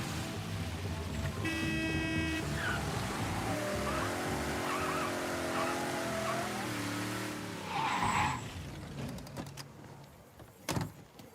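A car in the video game Mafia III drives with a humming engine and wavering tire squeal, followed by a brief skid and a sharp knock near the end, fairly quiet overall.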